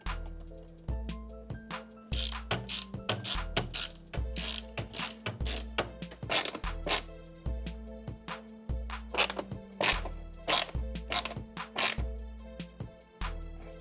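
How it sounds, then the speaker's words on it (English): A ratchet tightens the air intake connection on the air box of a BMW X5 G05 with a rapid run of close, sharp clicks, repeated in bursts with short pauses over several seconds. "Now I'm gonna tighten up where the air intake here makes connection to the box."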